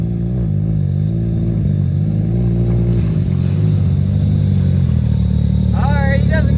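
A Can-Am off-road vehicle pushing through water, its engine revving hard in a steady, loud drone with rising pitch near the end, while people talk and shout nearby.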